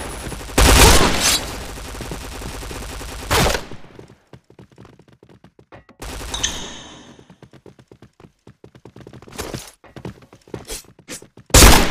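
Rapid bursts of gunfire in a Point Blank zombie battle in a sewer map, with two long loud volleys, then scattered shots and thuds, ending in a fresh burst.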